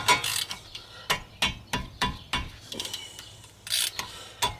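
An Allen socket on a ratchet loosening a brake bolt on a 2019 Subaru Outback: a series of sharp, close metallic clicks and clacks in an uneven rhythm, with no talking.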